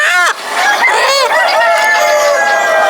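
Sonali breed chickens clucking and crowing loudly up close on a chicken farm, a dense overlapping flock chorus with no pauses.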